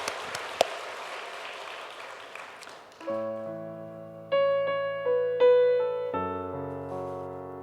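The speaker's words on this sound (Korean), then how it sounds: "저를 도와주시기 위해서 애를 쓰시는 우리 귀한 사역자들 위해서 박수 한번 보내드리겠습니다." A church congregation at an autumn revival service claps for its ministers for about three seconds, a broad wash of hands, before sustained keyboard or organ chords take over and carry on alone.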